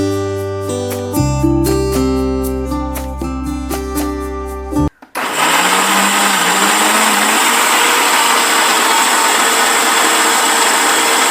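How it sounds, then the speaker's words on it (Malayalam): After a stretch of music, an electric mixer grinder starts up and runs loud and steady, whirring as it grinds coconut for homemade coconut oil. "അപ്പം നമുക്ക് ആദ്യം ഇതിനൊന്ന് നന്നായിട്ട് മിക്സിയിൽ അടിച്ചെടുക്കാം."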